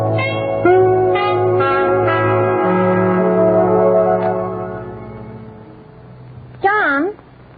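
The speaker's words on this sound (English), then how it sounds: "let's ring Mr. Edwards' bell first" A ringing doorbell chimes with several strikes, its tones sustaining and fading, followed by a short wavering sound near the end.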